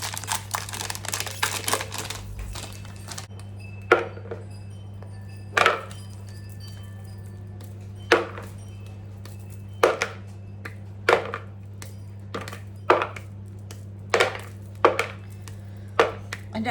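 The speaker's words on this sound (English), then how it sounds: "break up the chocolate and then pop it into the microwave for a bit" Sharp, crisp snaps of a chocolate bar being broken up break out one at a time every second or two over a steady low hum, with no talking.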